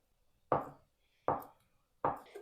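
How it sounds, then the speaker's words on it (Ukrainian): Three sharp knife chops on a board, cutting processed cheese into cubes, evenly spaced about three-quarters of a second apart, close and fairly crisp with quiet gaps between. "Кубиком нарізаю один плавлений сирок"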